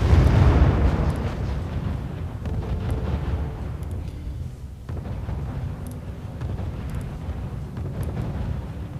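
Artillery fire in the strategy game R.U.S.E.: a deep booming blast at the start fades into a rolling rumble, followed by a second, softer distant boom midway.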